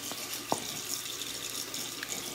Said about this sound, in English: let me turn the water off